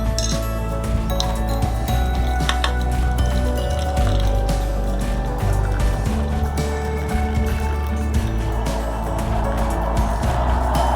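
Water drained off soft cooked tomatoes during homemade tomato ketchup preparation, a steady close liquid pour and splash that runs continuously throughout with no talking.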